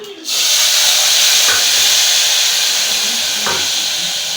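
Tamarind and cumin hit a hot pan while gojjavalakki is made, setting off a loud, steady hiss of sizzling that holds close and strong, with faint clinks from a utensil.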